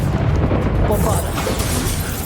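The Bombarda explosion spell in the video game Hogwarts Legacy goes off as a loud, dense, continuous blast with a roaring rumble that stays heavy for a couple of seconds, up close and filling the whole clip.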